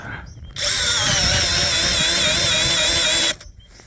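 A small cordless drill driver straining to turn a large wood bit into timber, a loud, close whine that starts abruptly, holds steady with wavering pitch for about three seconds, then cuts off.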